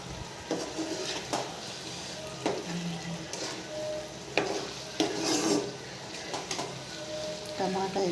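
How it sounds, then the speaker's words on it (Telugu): Boiled eggs are stirred into a tomato egg curry frying in a pan, giving a steady sizzle broken by repeated scrapes and knocks of a utensil against the pan, with occasional talk in between. "టమాటా ఎగ్, ఇందులో ఎగ్స్ ఉడకబెట్టిన ఎగ్స్ వేస్తున్నాను."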